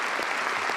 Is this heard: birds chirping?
no